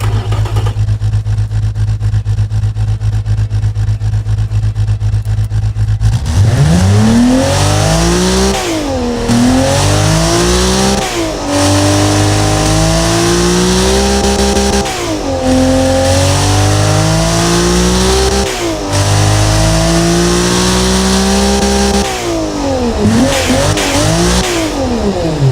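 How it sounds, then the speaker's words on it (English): A BMW M30B35 inline-six engine in the Automation game idles, then revs repeatedly, each rise climbing and dropping back in a series of loud, smooth sweeps with no talk. "This is the BMW M30 B35 engine"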